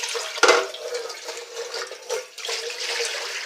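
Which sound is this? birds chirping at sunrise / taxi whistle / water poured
water poured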